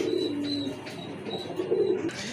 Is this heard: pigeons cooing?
yes